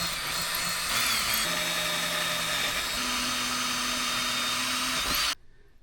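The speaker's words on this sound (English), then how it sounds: "So now let's drill those bolts through and just make sure there's nothing else that's going to hit" A power drill bores bolt holes through a cable flange during a DIY boat wiring overhaul, one loud continuous whine held for about five seconds before cutting off abruptly.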